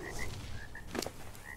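A frog croaks in the video game ARK Survival Evolved, giving several short, throaty croaks at a moderate distance over a soft, steady ambient background.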